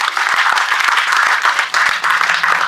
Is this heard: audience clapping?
yes